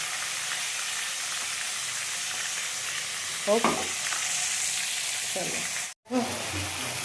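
Food fries in a pan with a continuous sizzling hiss, broken by a few scraping stirs of a spatula and a brief dropout near the end.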